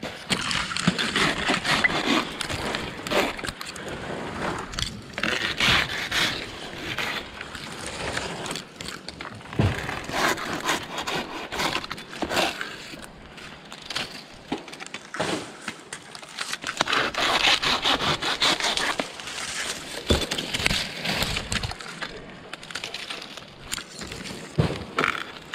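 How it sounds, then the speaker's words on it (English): A handsaw cuts through the top of a palm tree outdoors, a long run of rough, rhythmic rasping strokes that stay loud and close with brief pauses. "I'm gonna top this with the handsaw."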